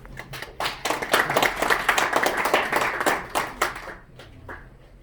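An audience at a Korean press-centre event applauds to welcome a retired general to the podium, with dense, steady clapping that builds quickly, holds for several seconds, then tapers off.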